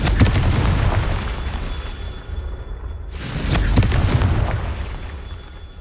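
Spell blasts of the Confringo fiery curse in the video game Hogwarts Legacy, loud booming bursts with a short dip near the middle before another strong explosion swells up, over continuous game rumble.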